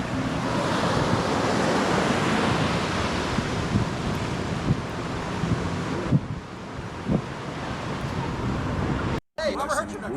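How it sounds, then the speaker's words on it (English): Ocean surf washing up onto the sand at Palm Beach, a steady broadband wash with wind buffeting the microphone, heard near and fairly loud without talk. "Listen to the ocean coming up onto the sand"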